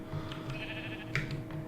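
Sheep bleat a few times in Minecraft, short nasal calls standing out over a steady hum of game ambience, moderately close and fairly quiet.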